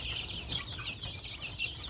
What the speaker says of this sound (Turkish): Çok güzel bir horoz var orada.